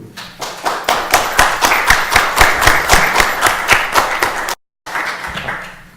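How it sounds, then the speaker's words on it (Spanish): Audience applause at an academic colloquium on internet governance, many hands clapping in a dense, steady burst that holds loud for several seconds, breaks off briefly, then resumes. "les pido un fuerte aplauso para el doctor Fausto Kubli"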